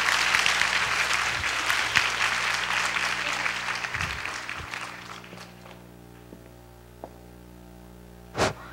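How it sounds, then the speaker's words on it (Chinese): An audience claps after a university lecture on creativity: dense, sustained applause that fades out over about five seconds, followed by quiet room tone with a few faint knocks and one brief thump near the end. "那让我们再一次以掌声谢谢文倩教授"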